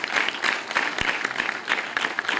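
An audience at a meeting claps in a brisk, continuous round, individual sharp hand claps standing out against the crowd's steady patter from start to finish.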